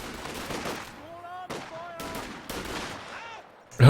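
Sniper rifle fire in a real-time strategy game match breaks out as sharp, loud cracks at intervals amid busy battle noise and synthetic tones, ending in a sudden heavy blast.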